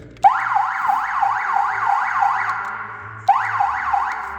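A loud emergency siren mounted on a TGB 600 LTX ATV wails in fast rising and falling sweeps, cuts out briefly, then starts again close by.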